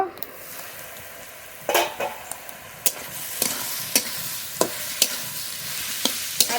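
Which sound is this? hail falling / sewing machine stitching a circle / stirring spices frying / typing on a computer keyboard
stirring spices frying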